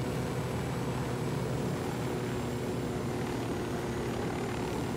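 Armed helicopter flying, a steady, loud, continuous rotor and engine drone with no breaks, close and unchanging throughout.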